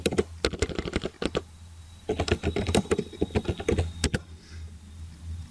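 A channel name is typed into a web form on a computer keyboard, with two quick bursts of crisp key taps separated by a short pause, close and clear, with no talking.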